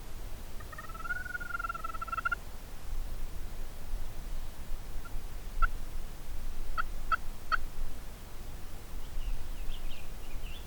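Wild Rio Grande turkeys gobble in open country: one clear, rattling gobble early on, then a few faint, distant calls after a pause, over a soft, steady hiss.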